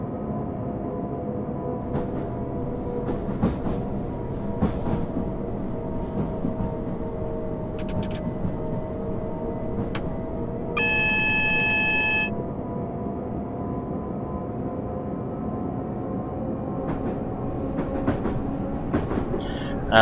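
An FCC Class 377 electric train on the Midland Main Line from London to Bedford runs steadily in Train Simulator 2015, with a continuous rolling rumble and motor whine, occasional clicks over the rails and a brief tonal alert in the middle.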